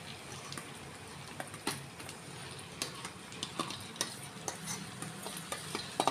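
Raw green gram (moong dal) fries in a pan with a continuous crackling sizzle, punctuated by frequent short scraping stirs from a spoon, close and moderately quiet.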